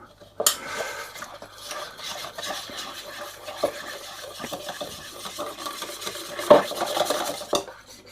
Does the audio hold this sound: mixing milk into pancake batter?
yes